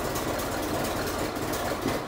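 A very old car's engine runs steadily just after starting, a loud, close, rough low rumble with an uneven knocking pulse and no voices.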